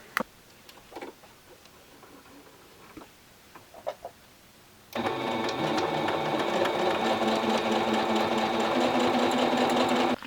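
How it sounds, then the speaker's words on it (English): Sewing machine stitching the bottom seam of a vinyl-and-foam satchel handbag, starting after a few seconds of quiet clicks and handling noises, then running as a loud, continuous, even whirr to the end. "So I'm just going to stitch right along that bottom seam there."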